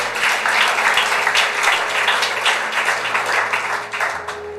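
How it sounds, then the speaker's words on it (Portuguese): A church congregation applauds during a sermon, sustained crowd clapping with individual hand claps standing out, loud and continuous, with a low hum beneath. "Dá uma salva de palmas ao Senhor."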